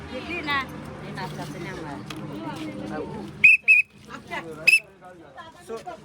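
A shrill whistle blows in a few short, sharp blasts amid people chatting close by.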